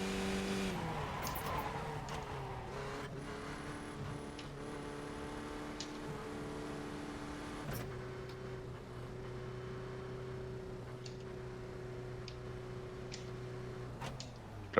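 Race car engine in a racing video game at VIR, droning steadily through a pit stop with shifting engine tones and a sharp drop around the middle, continuous and close.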